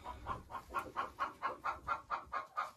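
Laying hen sitting in a nest, giving a steady run of about a dozen soft, evenly spaced clucks close up with no talking.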